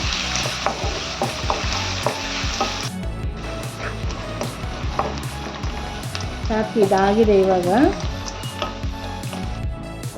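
Raw green mango pieces sauté in sizzling oil with frequent clinks and scrapes of a utensil against the pan, while a person speaks briefly.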